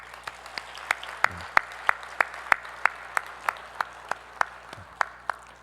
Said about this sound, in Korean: 우리 잠깐 일어나시면 우리 박수로 위로하고 격려해 드리도록 하겠습니다.